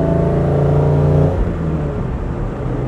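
A 1956 Mercedes 300 SL Gullwing with sidepipes roars loudly and steadily close by, its engine tone shifting partway through into a rougher, broader rumble.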